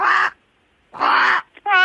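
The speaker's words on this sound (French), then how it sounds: "Ça, c'est la voix d'un corbeau." Crow cawing heard through a telephone line, three harsh calls with pauses between them, the last one shorter and more tonal, loud and close.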